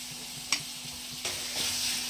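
Ginger garlic paste sizzles in a hot pan with frying mushrooms, a steady close hiss broken by a few sharp stirring clicks and scrapes, with no talking.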